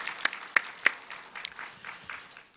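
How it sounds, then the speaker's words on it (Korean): Sparse, scattered applause from a church congregation during a Sunday morning service, a few sharp claps standing out at the start before thinning into soft, uneven clapping at a moderate distance. "살아계신 하나님께 영광의 박수 다시 한번 올리겠습니다."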